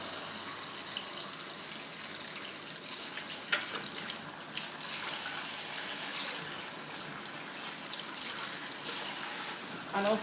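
Water runs steadily from a tap while hair is washed, a close, continuous rushing hiss with small splashing shifts, and someone speaks over it.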